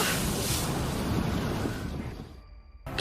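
Ocean waves slap and rush against the hull of a small boat as it sits sideways in rough water, a loud continuous wash with wind buffeting the microphone, fading briefly before surging back.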